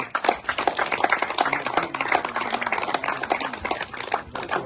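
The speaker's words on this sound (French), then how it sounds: "Donc on peut applaudir Serge d'être venu." At a men's tennis club prize-giving, a modest audience claps in a loose, crisp patter of distinct hand claps. It holds steady for several seconds without talk.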